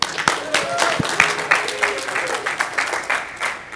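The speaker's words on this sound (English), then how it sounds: "Give him some applause." An audience at a talk gives a guest speaker a round of applause: dense, sustained clapping from a crowd, with voices talking over it.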